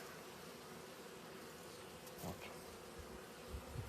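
Bees in an opened beehive, Dadant-Blatt frames being transferred to standard Ukrainian frames, give a steady, dense, close buzzing drone that fills the whole clip with a few brief knocks.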